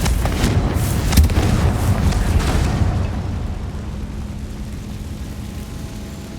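A Confringo fire spell explodes in Hogwarts Legacy: a loud, broad booming blast with rumbling that holds for about three seconds, then fades into a lower, steady roar.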